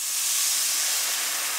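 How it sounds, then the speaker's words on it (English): Cooking wine hitting a hot skillet, a loud, steady, close sizzle with a broad airy hiss and no voices. "I love the smell when cooking wine gets added to a hot skillet like that"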